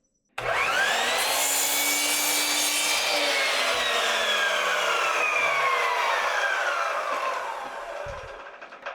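A powered saw rips a one-inch strip from half-inch-thick cedar for a birdhouse, starting abruptly with a loud whining cut whose pitch sweeps and slowly falls over about eight seconds before winding down.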